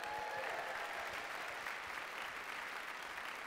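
Audience at a TEDx talk applauding and cheering: a dense, steady wash of clapping with crowd noise, heard from a distance and continuous throughout.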